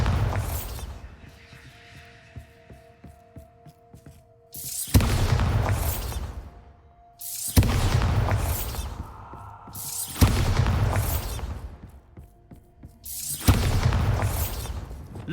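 Bombarda blasting spells explode one after another in the game Hogwarts Legacy, with four loud, crashing blasts spaced a few seconds apart, each decaying into debris before the next, over a faint background hum.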